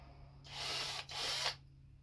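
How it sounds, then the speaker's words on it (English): A power drill whirs in two bursts, briefly pausing between them, close and fairly loud, as a bit bores holes into wood. "We're going to drill holes."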